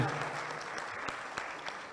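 An audience at a national ombudsman symposium claps for a speaker, a dense, even burst of applause from a crowd in a hall that stays steady for the whole moment.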